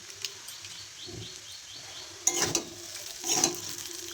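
Chicken chow mein being stirred in a pan with very little oil, with soft scraping and light sizzling and two louder clattering stirs near the end.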